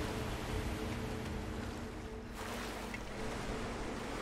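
Rushing water waves in Rise of the Tomb Raider, a steady loud wash of surging water with broad hissing surf throughout, a brief dip partway, then swelling again.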